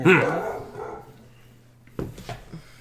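A dog barks once loudly and close at the start, followed by a fading whine, then a few faint softer yips near the end over a quiet room hum.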